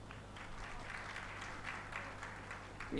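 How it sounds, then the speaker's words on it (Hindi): An audience at a Hindi religious discourse claps for about three seconds, a fairly faint, steady patter of many hands that swells slightly at the end. "ताली तो बहुत अच्छी बजाते हो आप लोग"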